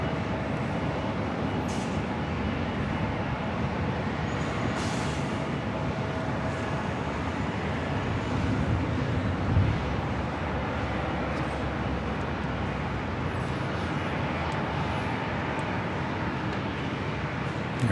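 A Cessna takes off from runway 24 left at LAX, heard as a steady, broad roar of engine and airport noise with no distinct peaks, held at the same level throughout.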